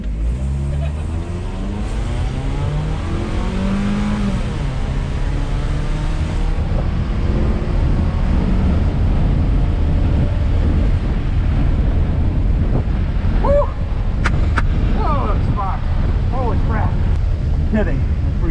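A Hyundai accelerates hard on a drag pass at a wet track in the rain, its engine drone loud and steady under heavy wind buffeting, with gear changes through the run.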